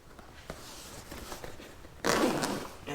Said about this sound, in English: The other thing I need to do is get this zipper off.